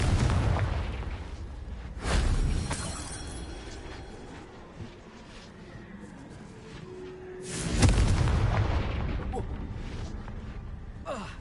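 A Confringo fire blast spell cast in Hogwarts Legacy, heard as two heavy booming bursts a few seconds apart, each trailing off into a rumbling roar.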